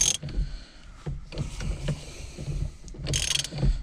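A ratchet cranks down on a steering wheel nut during a Momo wheel install, giving a few close bursts of mechanical clicking and grinding with short pauses between them.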